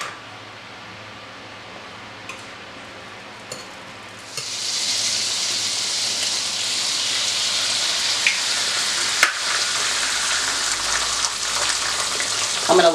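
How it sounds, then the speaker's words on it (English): An egg frying in a hot pan with oil and butter sizzles loudly and steadily, the hiss starting low and rising sharply a few seconds in, then holding a dense crackle throughout. "Get this nice and hot so we can go ahead and fry our egg."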